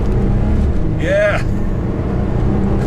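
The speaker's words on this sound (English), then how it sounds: "we'll give it a little bit of the beans here. I'll spool it up a little bit." A fast GM performance truck accelerating, its engine roaring steadily up close as the turbo spools up, with a brief rising whistle and a short spoken word over the sound.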